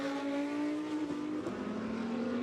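A Fanatec GT2 European Series race car at Valencia powers through turn 13, its engine note holding a loud, steady high whine that dips with a brief gear change before climbing again.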